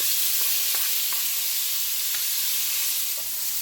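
Shrimp sizzle in hot cooking oil in a pan over high heat, giving a steady, bright hiss with a few faint clicks and scrapes, moderately close and without talk.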